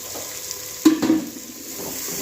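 Finely chopped onion frying in hot oil, a steady close sizzle broken by a brief louder burst of stirring and scraping near the middle, with no voices.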